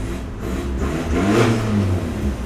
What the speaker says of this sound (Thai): จะพาไปดูว่าเสียงเครื่องยนต์เนี่ย มันเป็นอย่างไรเนาะ